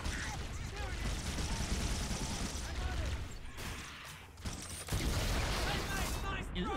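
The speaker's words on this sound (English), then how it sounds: "Ooh, explosions." Dense gunfire and blasts in the video game Halo rattle continuously, with a brief lull before the barrage resumes loudly; a voice is faintly audible beneath.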